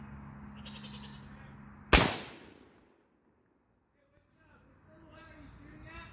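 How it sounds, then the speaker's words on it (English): Rifle fire from a Bear Creek Arsenal gun, with one sharp, loud report followed by a fading echo and near-silence. Faint background sounds surround the shot. "So you guys just saw me shoot. I shot 3 rounds."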